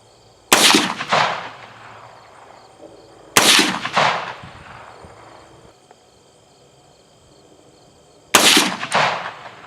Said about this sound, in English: So I'm gonna shoot some rounds.